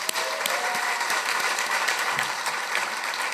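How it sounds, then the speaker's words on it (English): Dense, steady audience applause at a live awards event, broad crackling claps filling the whole stretch at even loudness with no talk over it. "Please join me in giving all of these people a huge round of applause."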